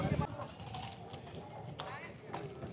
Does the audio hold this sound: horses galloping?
yes